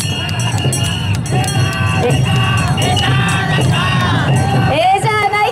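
A large crowd chanting "ee ja nai ka" loudly in unison during a Japanese taiko float lifting festival in Kotohira, repeated shouted phrases rising and falling over a dense wall of voices.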